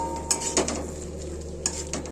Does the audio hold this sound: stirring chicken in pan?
yes